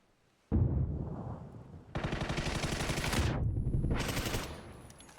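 Heavy PUBG gunfire erupts after a short quiet, with dense rapid bursts of automatic shots that run loud and continuous, then cut off and flare up again near the end.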